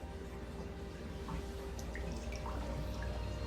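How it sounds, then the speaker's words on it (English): Soft gurgling and dripping of water spilling into an aquarium overflow as an arm in the tank displaces water, faint and close with small irregular trickles and no talk. "what's that crazy gurgling noise in the background? That is actually my arm. When I put my arm into the tank, it displaces water."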